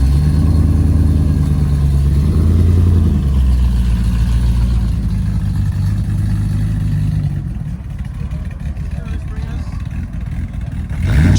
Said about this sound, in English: Almost sounds like a muscle car, doesn't it?